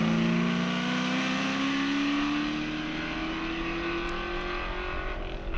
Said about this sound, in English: he manhandles the Mustang through the left and right and plants the right foot for the blast up the finishing straight